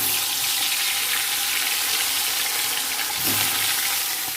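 Fish frying in hot oil in a wok makes a loud, unbroken hiss that holds steady from start to finish, with nothing else heard.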